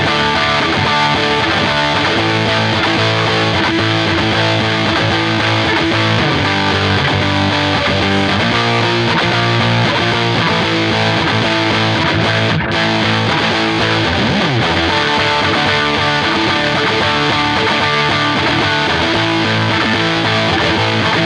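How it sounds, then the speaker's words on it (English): Heavily distorted electric guitar plays a riff with a good solid distortion tone, loud and dense throughout with a steady rhythmic pattern and no voices. "straight down the middle, a good solid distortion sound would do just as well in a pinch"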